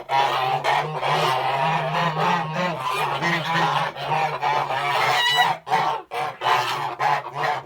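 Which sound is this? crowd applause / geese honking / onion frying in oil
geese honking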